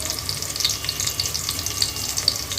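Garlic and finely chopped chili fry in hot oil in a pan for a traditional Marathi aluchi fatfata, giving a steady close sizzle with faint stirring and no talk.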